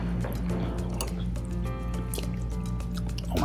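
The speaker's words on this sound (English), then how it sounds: "It's dripping on my hand." Thai moringa curry dripping onto a hand in a kitchen, a continuous wet squishing and dripping close by, with small splatters and a faint tonal ring in the background.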